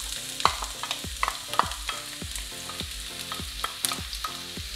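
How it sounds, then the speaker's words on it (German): Chopped onion frying in hot rapeseed oil in a pan, a steady close sizzle broken by repeated clinks and scrapes of a utensil stirring the pieces, with no voices. "Jetzt, wo das Öl warm ist, dann kommt die Zwiebel rein."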